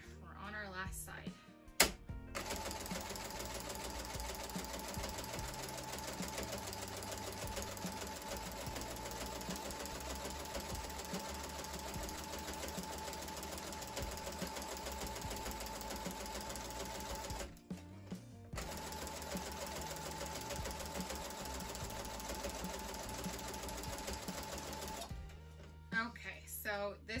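Baby blanket being stitched on a sewing machine, its steady motor hum and rapid needle chatter running continuously at close range, with two short pauses and a brief stop near the end, while a person speaks over it.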